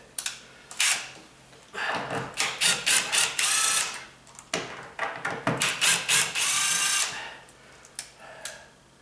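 A power tool backs screws out of a door's top and bottom hinges, irregular ratcheting and whirring bursts in close succession with clicks between, fairly near.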